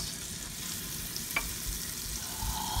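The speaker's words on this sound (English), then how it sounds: "cook vegetables until they begin to soften, then stir a couple of times" Onion, celery, carrots, garlic and thyme sizzle in a pot for a corn and zucchini chowder, a steady, soft frying hiss with a faint scrape partway through and no talking.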